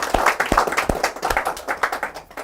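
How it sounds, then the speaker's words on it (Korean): An audience claps hands in a lecture hall, with a burst of brisk, irregular clapping from many people nearby that runs steadily throughout, with no voices. "박수!"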